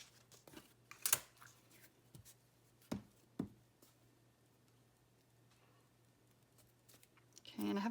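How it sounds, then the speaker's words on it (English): Paper scraps torn by hand to rough up their squared edges, a few short, soft ripping bursts scattered across a quiet background with faint handling noise. "I want torn edges, so I'll just have to tear off my squared off edges"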